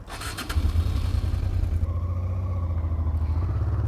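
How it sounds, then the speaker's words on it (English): A Honda Transalp motorcycle pulls away, its engine note rising from a short burst into a steady, loud, close rumble that holds for several seconds. "So, Lorraine, you're all kitted up and raring to go on the Transalp"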